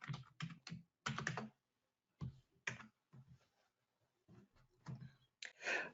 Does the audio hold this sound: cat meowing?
no